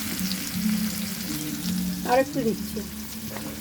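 Chopped onion fries in a pan for an egg chicken dish, a loud, steady sizzle with brief stirring scrapes while someone speaks briefly.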